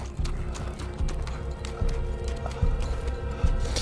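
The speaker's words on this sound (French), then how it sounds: "Quelqu'un arrive à cheval!" Horse hooves approach at a steady clip-clop, each hoof strike distinct and growing slightly louder against a low background, with no voices over them.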